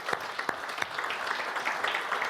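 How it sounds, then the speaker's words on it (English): An audience at a corporate speaker session claps for presenters, a continuous even round of applause with a few sharper individual claps standing out near the start. "Let's give them a round of applause."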